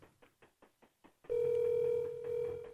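A telephone line rings during a live call-in broadcast, a series of quick soft dial pulses followed by a steady, clear ringback tone.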